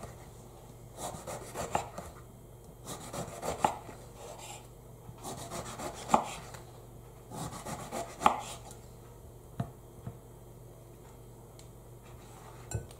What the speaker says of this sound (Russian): Я буду нарезать вот такими брусочками.